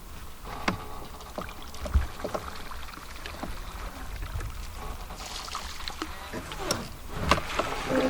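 Canoes or small boats being paddled at sea near Bear Island, with soft repeated paddle strokes and water splashes over steady wind and sea noise, the sounds distant and faint.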